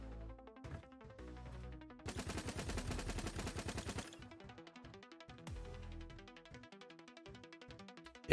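Gumball launcher weapon firing in the video game Project Onyx, a rapid burst of loud, sharp repeated shots alone, with scattered clicks and thuds before and after.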